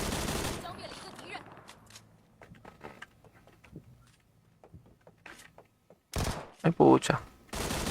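Video game gunfire cracks in short bursts at the start and again near the end, loud and sharp, with a voice speaking briefly in the quieter stretch between.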